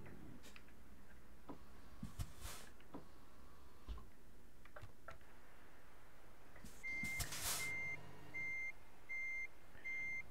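In Euro Truck Simulator 2, a Scania E truck backing a trailer gives out evenly spaced electronic reversing beeps in the later seconds, following a few faint ticks and clicks over quiet engine hum.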